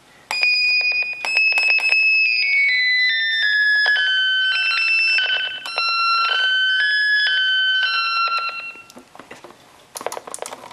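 A Dubreq Stylophone Gen X-1 plays a shrill, very high-pitched buzzy melody with sliding notes and short stabs, loud and near for about nine seconds before a few brief clicks, with no voices.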